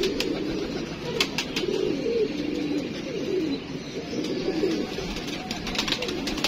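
Pigeons cooing close by, several soft rolling low coos repeating over steady background noise, with occasional faint chirps and no talk.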